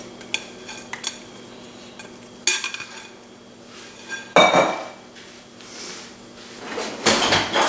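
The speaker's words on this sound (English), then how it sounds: "be sure and scrape the bottom to get all the sugar and butter that clings to the bowl" Peach cobbler sauce of sugar and butter scraped from a bowl into a pan, a few faint clinks followed by louder utensil scrapes and clatter against the dish, close by, with no talk.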